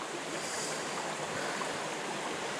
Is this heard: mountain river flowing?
yes